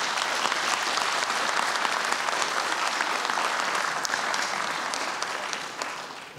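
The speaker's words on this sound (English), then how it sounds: "So if we could just give a little round of applause to the families." An audience at an awards and fellowship ceremony gives a long, even round of clapping for the families, steady throughout and fading slightly at the end.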